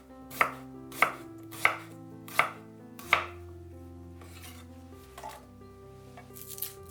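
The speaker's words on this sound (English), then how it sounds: "20 grams of ginger cut into slices" A knife slices ginger on a cutting board in five crisp, evenly spaced chops, close and clear, followed by quieter faint cuts, with a soft musical tone underneath.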